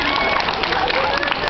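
An outdoor audience at a Dublin street performance claps and cheers in a dense, continuous burst of applause, close and loud for a brief moment.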